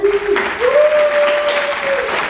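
A talk show audience applauding as a guest is welcomed, a short burst of clapping with a tonal voice or whistle riding over it.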